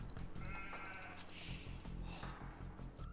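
Sheep in an Age of Empires-style strategy game bleating in short repeated calls over a busy backdrop of game ticks and clicks, fairly quiet.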